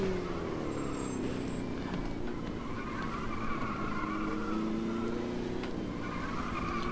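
A stock car engine drones steadily through a four-speed gearbox in a racing game, its pitch rising and falling across gear changes with faint tire scrub underneath, continuous and fairly quiet.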